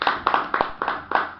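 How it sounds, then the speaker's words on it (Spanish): A few people clapping in a studio at the close of a radio-style program, five or six quick, evenly spaced claps, close and fairly loud, with no talk over them. "Terminamos con un aplauso."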